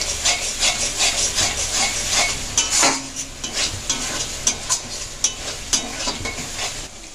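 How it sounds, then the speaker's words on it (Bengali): Sliced onions with ground spices fried in oil in a pan for a Kashmiri chicken dish, stirred with a spoon: close sizzling under repeated scraping and clinking strokes against the pan, loud and irregular. "ভালোভাবে পেঁয়াজটার সঙ্গে নেড়ে যাব।"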